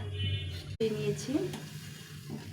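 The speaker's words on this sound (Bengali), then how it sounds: "পটলগুলো পুড়িয়ে নেব।" Pointed gourds (potol) roast over heat, giving a steady sizzling crackle with a brief dropout partway through, while a voice talks over it.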